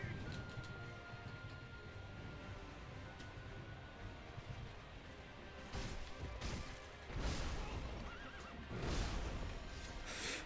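A horse in a video game neighs and whinnies over a low background rumble, followed by a couple of louder thumping crashes as it jumps.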